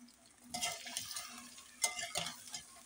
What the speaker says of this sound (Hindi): अब हम भिंडी पहले फ्राई करेंगे।